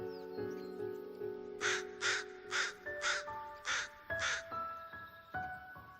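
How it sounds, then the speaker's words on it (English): Crows caw in a series of six loud, harsh calls spaced about half a second apart, over a backdrop of steady, tonal birdsong in a peaceful outdoor setting. "The birds are singing."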